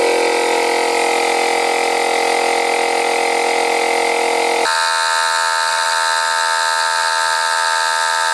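A Makita DMP180 18V cordless inflator pumping up a flat van tyre, a loud steady mechanical drone with a strong whine that shifts abruptly in pitch midway, close and continuous with no talk.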